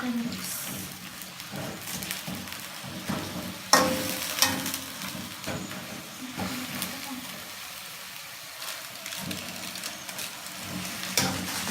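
Steady sizzling and crackling of noodles frying in a pan, with occasional clanks and stirring scrapes, fairly close and continuous throughout.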